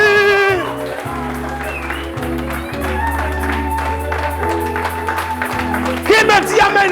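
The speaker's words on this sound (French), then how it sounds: "pousse des cris de joie, des you-you, des acclamations, des cris de triomphe pour Jésus" A church congregation cheers, ululates and claps in praise of Jesus during a worship service, the crowd noise layered over steady keyboard chords and swelling louder near the end.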